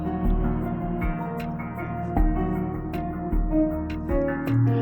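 A dense, full music mix plays at its loudest, busiest passage before mastering, with a steady wall of layered instruments, punchy low thumps recurring throughout and bright cymbal-like hits on top, sustained and loud with no talking.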